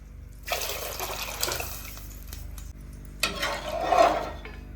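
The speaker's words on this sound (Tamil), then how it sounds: "அதனால தான் தண்ணி கொஞ்சம் அதிகமாக சேர்க்கிறோம்" Water splashes and pours into a cooking pot for ven pongal in two bursts, with a brief lull between, close by and moderately quiet.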